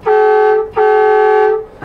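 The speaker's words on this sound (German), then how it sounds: "Du hast eine Männerhupe mit eingebaut." Two loud, blaring blasts from an air horn on a 2023 Concorde Centurion 910 MI motorhome, close by, the first shorter and the second held longer, with a brief gap between.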